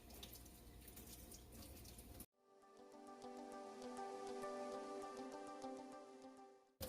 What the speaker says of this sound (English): So I'm just going to take my liquid foundation brush, just rinse all the goo out.